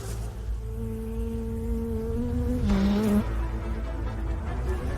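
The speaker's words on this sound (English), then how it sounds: "With increasing audacity, the hornet flies closer to the hive" A hornet flying near a bee hive, a low droning buzz with a steady hum that wavers and dips in pitch as it moves, fairly close and continuous, with no voices.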